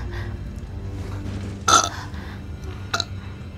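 A person playing Beyond Two Souls lets out a short throaty burp, a brief burst rising above low background hum, followed by a smaller second sound moments later.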